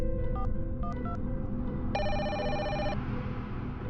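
A telephone rings with a few quick electronic trills followed by one longer ring, clear and fairly close over a steady low background hum.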